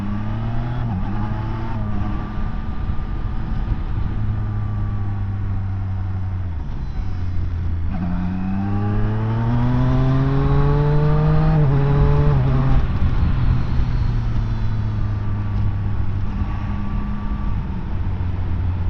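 A Zontes 703RR sports motorcycle being ridden hard, its engine note loud and steady, climbing through the revs in rising sweeps between gear changes with continuous wind rush.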